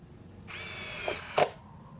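A Milwaukee M18 FID3 cordless impact driver drives a fastener into wood, a close whine of about a second ending in a sharp rattling burst of impacts, then stops.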